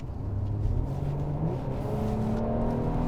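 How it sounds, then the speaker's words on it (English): A 2020 Mercedes-Benz E350 in sport mode accelerates hard, its engine a steady, loud, continuous drone with a rising pitch throughout, heard from inside the car with no talking. "So I'll go ahead and put it into sport mode using the dynamic select button in the center console and put my foot down on it."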